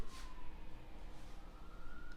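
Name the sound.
sirens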